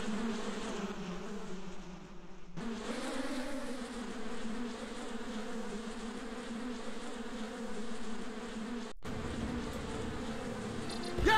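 Bees buzz in the Bee Movie Game video game, a dense, steady drone that holds throughout with a short break near the end.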